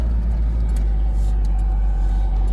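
A restored 1968 Pontiac Firebird convertible with a 400 engine cruises down the road, a steady low engine drone and road rumble heard from inside the car, even and unbroken.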